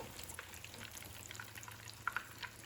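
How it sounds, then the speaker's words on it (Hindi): Beef cutlets fry quietly in a pan with oil, giving a soft steady sizzle and a few faint pops and crackles. "3 से 4 मिनट इसको फ्राई करेंगे।"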